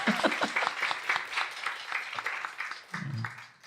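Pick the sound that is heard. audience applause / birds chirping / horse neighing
audience applause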